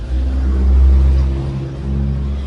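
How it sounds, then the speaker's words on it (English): A car rolls in on a Hong Kong street, a steady low engine rumble that swells briefly before easing back, close by and continuous with no talking over it. "there might be a car going in there"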